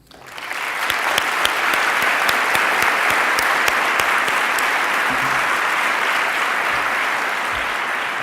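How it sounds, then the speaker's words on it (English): Audience applause at a third-anniversary memorial event for downed Flight PS752, sustained clapping rising quickly and continuing steadily for several seconds with no talk. "I think it's again worth a round of applause."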